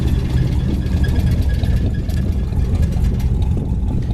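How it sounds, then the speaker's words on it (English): A white 1963 Chevy Impala SS with a 409 engine idles steadily and loud up close, its exhaust carrying a rattle in a continuous rumble with no talking. "We got a little bit of an exhaust rattle to it."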